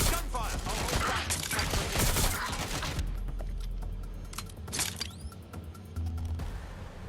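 Bursts of rapid gunfire crackle in the first few seconds in Watch Dogs: Legion, then quieter scattered shots and mechanical clicks follow against a low rumble.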